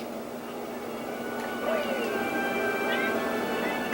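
A cat meows to be let in, heard over steady game music and background noise, with a couple of short rising cries near the middle.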